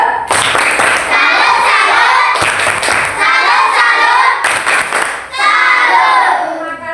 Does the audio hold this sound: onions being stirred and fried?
no